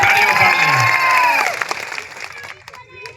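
At a political rally in Katu village, Ghoghamba taluka, a crowd breaks into loud applause and cheering. A voice rings out over the noise before the clapping swells into a dense wash that gradually thins.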